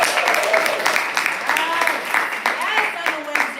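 Audience at a Chicago Poetry Center Blue Hour poetry reading applauds in a brief burst of mixed clapping and cheers, with people talking over it.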